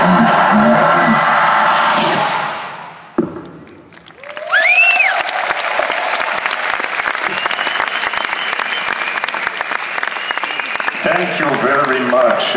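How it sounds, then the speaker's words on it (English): Audience applause fills a hall at a beatbox event's opening ceremony, breaking out loudly after a brief lull and continuing steadily, with a voice speaking over it near the end. "It is lovely of you that you would applaud me."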